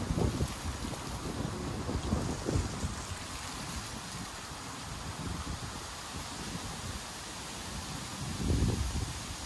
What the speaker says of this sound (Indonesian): Anginnya lumayan kencang.